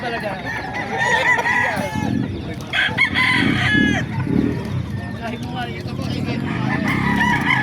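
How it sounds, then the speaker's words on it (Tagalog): Chickens cluck and a rooster crows amid a busy, noisy market background, with people talking nearby over the birds, at the Bocaue tiangge in the Philippines. "Sisiya natin mga manok dito"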